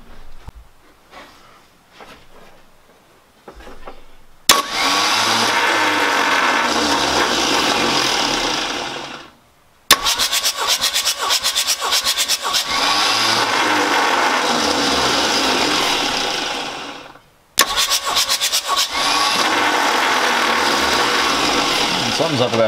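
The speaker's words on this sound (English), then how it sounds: "Makes it a lot easier to crank the engine over because there's no compression except for the one cylinder we're testing." A diesel engine with its glow plugs removed cranks over on the starter in three long bursts of about five seconds each. Each burst is a loud, even whirring with short pauses between, and quieter sounds come before the first burst.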